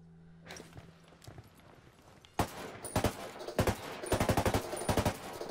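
Automatic gunfire from a newly found rifle in the Ghost Recon Wildlands video game: a single heavy shot, then several short bursts and a longer rapid string of close, punchy rounds.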